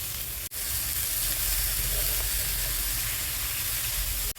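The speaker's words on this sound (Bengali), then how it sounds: "মশলার সাথে ভাজতে ভাজতে শুটকিটা তেল ছেড়ে গেছে, এখন দিয়ে দেবো সবজিগুলো।" Dried fish and vegetables frying in spiced oil in a pan, a loud steady sizzle with a brief dip near the start and at the very end, no voices.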